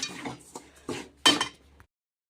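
A metal spoon scrapes and clinks against a pan while a puffed-rice sweet mixture is stirred, giving four distinct uneven strokes before falling silent.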